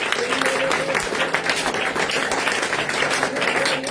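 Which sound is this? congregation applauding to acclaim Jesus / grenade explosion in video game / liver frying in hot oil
congregation applauding to acclaim Jesus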